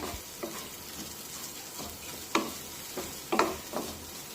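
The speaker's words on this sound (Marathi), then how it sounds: "थोडंसं या मसाल्याला हलवून घेते।" Cooked masala, already releasing its oil, is stirred in a kadai with a faint steady sizzle and a handful of spoon scrapes and taps against the metal, a couple of them sharper and louder.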